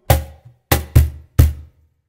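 Four deep, booming hand strikes on a cajon with a faint lighter tap, played close in a short syncopated samba reggae pattern with no voices.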